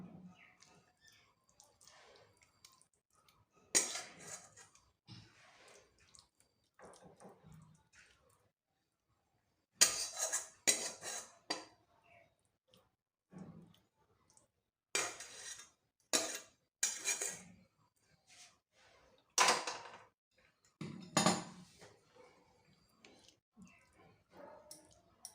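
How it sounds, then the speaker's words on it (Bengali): A cooked papaya dish is scraped and poured from a pan, heard as intermittent clinks, scrapes and soft wet slides in bursts separated by quiet gaps, close but fairly faint. "রান্নাটা ঢেলে নিচ্ছি।"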